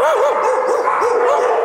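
Dogs at a dog daycare yip, whine and bark in a continuous, close, loud chorus, with wavering high-pitched cries rising and falling throughout.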